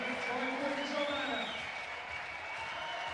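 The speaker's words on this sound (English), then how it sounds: "The crowd's right behind her." Crowd cheering and applauding for a female climber during a women's bouldering final at a World Cup in Meiringen, a steady broad roar of many voices with a commentator talking over it.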